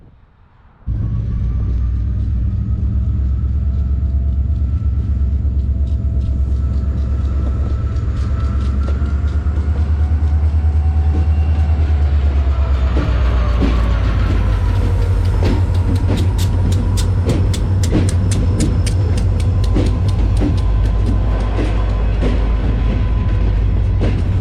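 A CSX freight train, QO28, rolls past in Decatur, Alabama, a loud continuous rumble and grinding roar for over twenty seconds, with wheel clacks and squeals growing denser toward the end, close and with no talking.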